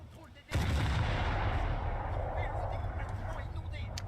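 Torpedo detonating in a War Thunder naval battle, a sudden loud explosive boom that rolls into a long, heavy rumbling roar, with a voice speaking faintly beneath.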